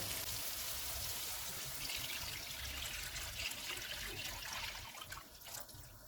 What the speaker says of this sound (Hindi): अब तैयार की हुई यखनी डालेंगे।